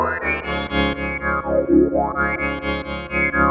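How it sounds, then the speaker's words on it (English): An Infinitone 2 synthesizer, distorted, pulses in a steady rhythmic pattern while a pitch sweeps down and back up, the chord gliding smoothly between notes. "I'm going to play this rhythmic pattern and then change the chord in real time"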